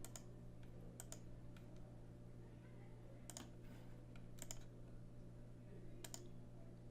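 Fingers type on a computer keyboard in quiet, sparse bursts of clicks, close and soft against a faint steady hum, with no speech.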